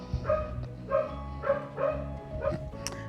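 A pet dog barks repeatedly near a gate at home, five or six loud, evenly spaced barks close by, with no talking over them.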